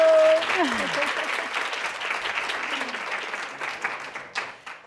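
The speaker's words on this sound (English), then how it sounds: "Please give her a warm applause." Warm audience applause at an evening sponsored event, starting loud with a brief whistle and a tonal sweep in the first moments, then steady clapping from a crowd that gradually thins toward the end.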